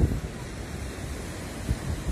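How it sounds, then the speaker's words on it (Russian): A fast, noisy river rushes past near a seaside embankment in Turkey in February, a rough low roar with wind buffeting the microphone and occasional heavier surges. "А здесь вот река, шумная река мчится"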